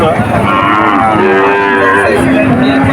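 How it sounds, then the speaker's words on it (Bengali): Calves at a cattle market moo loudly and continuously, with several overlapping bellows up close over a busy crowd murmur. "এই হাট থেকে বিভিন্ন এলাকায় বাছুর চলে যায়"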